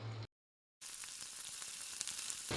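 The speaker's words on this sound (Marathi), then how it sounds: "तेल चांगलं गरम झालेलं आहे आता मी ह्याच्यामध्ये एक एक टिक्क्या सोडून घेते" Sooji poha tikkis shallow fry in hot oil in a pan, a steady, close, hissing sizzle that runs on continuously after a brief gap of silence.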